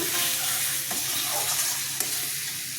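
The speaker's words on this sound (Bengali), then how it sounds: "মশলা কষানো হয়ে গেছে।" Spice paste with salt frying in a pan while being stirred, a steady loud sizzle with scraping stirs and a couple of sharp utensil knocks, no voices.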